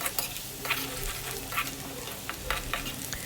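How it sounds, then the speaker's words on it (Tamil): Peeled garlic sautéing in hot oil over a medium flame: a steady close sizzle with spoon scrapes and light clinks as it is stirred. "இப்போ நம்ம உரித்து வச்சுருக்கிற பூண்டை நல்லா ஆட் பண்ணிவிட்டு பூண்டோட கலர் சேஞ்ச் ஆகிற அளவுக்கு"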